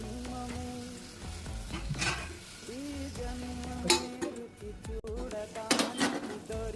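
Tomato with ginger garlic paste cooks in a pan for a soy chunk curry, a soft steady sizzle under repeated scrapes and clinks of a spoon stirring against the pan, close by.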